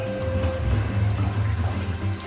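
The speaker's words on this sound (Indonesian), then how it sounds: "Kita kasih air dulu guys, pakai air keran" Tap water poured into a container for a pet water turtle, a steady, close pouring and trickling that runs throughout at moderate loudness.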